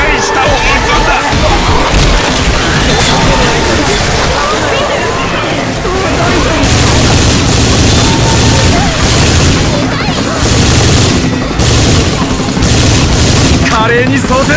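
Loud, near-constant gunfire in the zombie shooter Left 4 Dead 2, with rapid bursts, booms and crashes piling up, while voices talk over the action.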